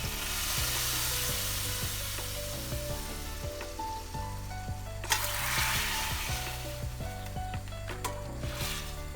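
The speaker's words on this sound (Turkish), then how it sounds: "Bu da kaynıyor." Food bubbles and sizzles in a pot while a tarhana soup is cooked. A steady, fairly loud frying hiss runs throughout, with utensil clinks and a sharper burst of sizzling partway through.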